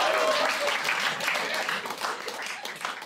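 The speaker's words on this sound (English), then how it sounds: "Can you have a bigger cheer for that?" A comedy-club crowd claps in a brief, dense burst that fades over a few seconds, with faint voices mixed in.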